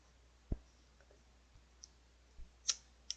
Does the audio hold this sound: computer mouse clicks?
yes